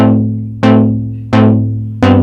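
A bright, buzzy saw-wave note from a Moog Matriarch analog synthesizer plucks in a steady repeating sequence, four sharp attacks each decaying slowly over a sustained low drone.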